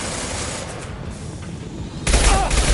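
Gunfire in the Mass Effect 2 video game, a dense rattle of shots under battle noise that swells into a louder burst near the end.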